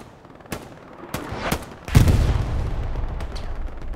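Artillery and gunfire in a World War II battle video game at Omaha Beach, scattered sharp shots early, then a heavy booming blast followed by a rumbling barrage of fire.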